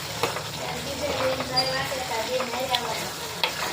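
Cumin seeds tempering in hot oil for a Gujarati patra dish give a steady frying sizzle with brief crackles and small pops, close and moderately loud, with no talking.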